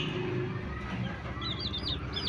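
Peruvian hen clucking to her chicks while crushing grains for them, soft repeated clucks and faint chick peeps over a steady close background hum, with no talking.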